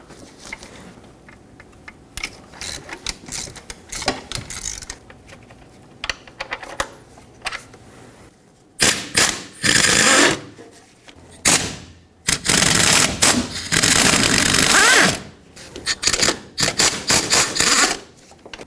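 A ratchet breaking loose and spinning out the 10mm valve cover bolts on a 1997-2006 Jeep Wrangler 2.4L engine, rapid loud metallic clicking bursts with sharp knocks and pauses between them, no talking.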